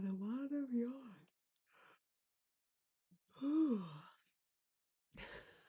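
A person yawns several times in a quiet room, with long drawn-out voiced exhales rising and falling in pitch, separated by pauses of silence and a short breathy sound at the end.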